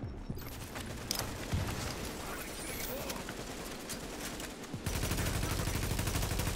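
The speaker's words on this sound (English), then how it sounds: "I am shooting him in the face super hard" Gunfire from The Division during a co-op side-boss fight: a steady stream of repeated shots and impacts throughout, with a denser, louder burst near the end.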